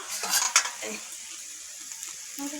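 A metal pot lid clanks and scrapes open over a simmering pan of taro leaf curry with coconut and prawns, with sizzling and stirring clatter close by, a few sharp knocks in the first second.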